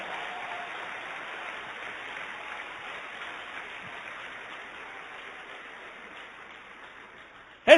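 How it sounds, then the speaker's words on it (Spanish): A church congregation claps in praise during a Spanish-language Christian sermon, forming a steady, even wash of applause that holds for several seconds before a brief sharp sound at the end. "Dale un aplauso a Dios por esta porción de la Biblia."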